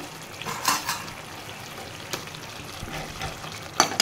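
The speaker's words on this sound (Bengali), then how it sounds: "দেখো তেল ছেড়ে দিয়েছে, এবারে মাছগুলোকে আমি দিয়ে দেবো" Fish laid into hot oil for frying, a low steady sizzle with a few sharp metallic clinks and scrapes of a utensil against the pan, close and moderately quiet, no talk.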